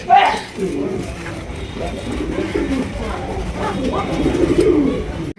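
Rajgolla pigeons at a pigeon market coo in low, throaty murmurs near the listener, steady over several seconds with a voice talking alongside.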